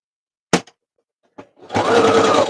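A sewing machine stitches along the edge of a journal tag, starting with a couple of sharp clicks and knocks before breaking into a short, fairly loud whirring run at the end.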